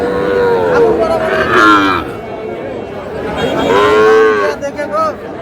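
Sahiwal calves moo loudly and repeatedly at a busy cattle market, two long drawn-out calls with a shorter one trailing off, over a steady background of crowd chatter.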